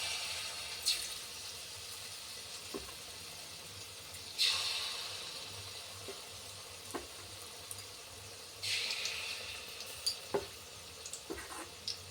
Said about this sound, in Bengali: এই বড়াগুলো ছেড়ে দিলাম, এই দিয়ে কটা আছে ভেজে নিই।